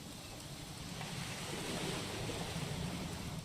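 Steady rain falls in the video game What Remains of Edith Finch, a soft, continuous wash of patter and hiss that swells slightly midway and never breaks.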